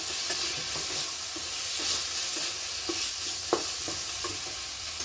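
Ridge gourd dhoka mixture is sautéed with garam masala in a pan, a faint, even sizzle running under occasional soft taps and scrapes from stirring, quiet and steady with no voices.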